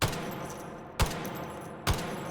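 An M60 machine gun firing in the VR shooter H3VR, three quick bursts of rapid automatic fire about a second apart, each opening with a sharp crack and trailing into a rolling echo.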